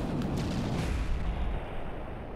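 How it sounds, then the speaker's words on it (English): A missile explosion in the naval combat game From the Depths, a loud, dense rumbling blast that fills the whole short stretch and eases slightly toward the end. "Wow, that was a big explosion."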